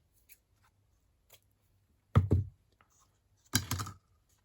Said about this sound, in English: So I'm going to cut another little strip of it just to add a little bit extra.